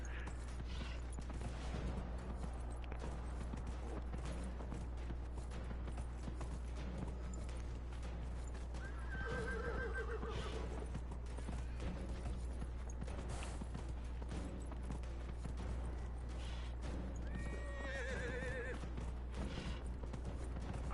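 A horse in the video game Dragon Age: Inquisition, hooves clip-clopping steadily at a gallop over a low background hum, with a couple of brief whinnies partway through.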